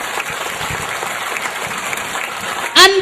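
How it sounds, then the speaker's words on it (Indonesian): Audience applause at a lively religious talk in Indonesia, a steady broadband patter of many hands clapping that holds for several seconds before a louder burst near the end. "Tepuk tangan bu."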